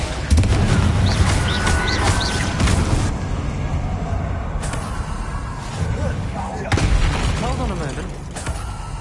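Repeated booming, shattering explosions from Confringo spells in a Hogwarts Legacy battle, several loud close bursts spread across the stretch, with a voice speaking among them.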